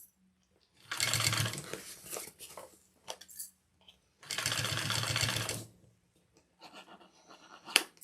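Sewing machine stitching a bag, two sustained runs of rapid mechanical whirring, each lasting a few seconds, separated by quieter handling clicks and fabric rustle, close and clear.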